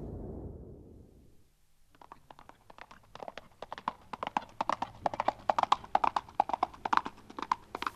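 A small Mongolian horse gallops across open steppe, its drumming hoofbeats coming in quick, regular groups that grow louder and nearer after a brief low rumble at the start.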